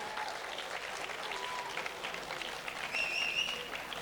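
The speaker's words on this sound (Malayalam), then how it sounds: "കയ്യടി, വീണ്ടും കയ്യടി" An audience claps steadily at a children's fashion show held at a Kerala Association of Kenya cultural event, a dense, continuous patter of many hands, moderately loud and fairly distant with crowd ambience.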